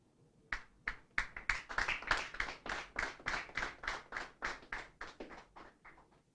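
Applause for an award recipient at an exam results announcement, heard as a run of about twenty distinct, rhythmic claps that swell in the middle and gradually fade, sounding like a small group clapping in unison.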